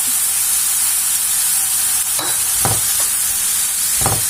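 Onion and bell pepper fry in hot oil with a loud, steady sizzle, broken by a few scraping stirs of a utensil near the end.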